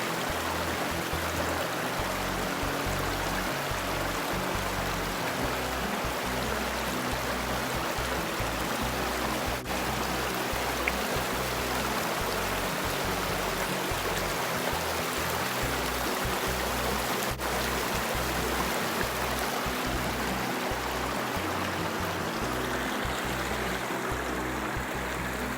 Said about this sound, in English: Big South Fork of the Cumberland River and the morning sunshine.